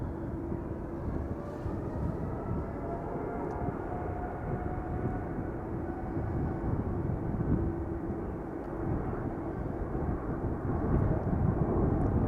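A Boeing 787-10 Dreamliner, registration PH-BKK, departs Schiphol Airport bound for Bogota, its engines a steady, fairly loud broadband roar that builds slightly toward the end, with no talk over it.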